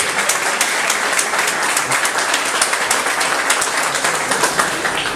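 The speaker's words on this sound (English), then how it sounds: "let's give them just a quick round of applause" An audience gives a quick round of applause to a volunteer fire department hosting an evening symposium event in Inverness, with dense steady clapping filling a hall, close and loud, with no talking over it.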